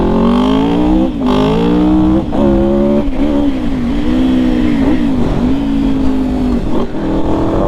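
A replica of the Rumi Honda RC30 race motorcycle raced by Fred Merkel in 1991, its engine revving hard and loud close by, the pitch climbing and dropping with several distinct gear changes and brief throttle cuts.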